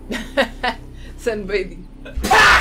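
A person sneezes loudly once at the end, a sharp noisy burst following speech from several people, during a Far Cry 3 game session.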